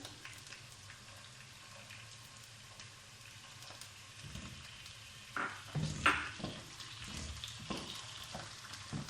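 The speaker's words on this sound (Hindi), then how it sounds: "इसको भी हल्का सा फ्राई करेंगे।" Ginger garlic paste frying in a pan while making Lahori chana chole, a soft, steady sizzle with a few stirring scrapes and clinks toward the end.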